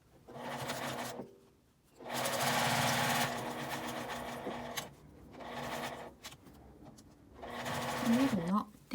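A sewing machine runs in bursts while edge-stitching a fabric L-shaped zipper pouch, its motor whirring steadily for several seconds at a time with short pauses between runs.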